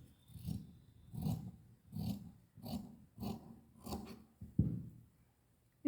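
Scissors cutting through blouse fabric for a cross-cut blouse: about seven soft, rhythmic snipping and rasping strokes, close and fairly quiet, evenly spaced with brief pauses between.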